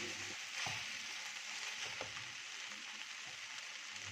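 Chicken fried rice with ketchup sizzles in a hot pan as it is tossed, a continuous frying hiss broken by a few soft scrapes and knocks of the utensil against the pan.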